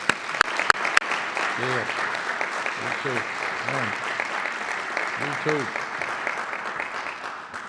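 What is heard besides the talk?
audience applause for Navy Color Guard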